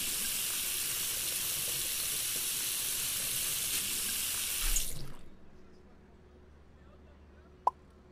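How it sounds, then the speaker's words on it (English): Cold tap water runs steadily into a big pot with a broad hissing rush for about five seconds, then cuts off, leaving a quiet room and one sharp clink near the end. "1 liter of cold tap water."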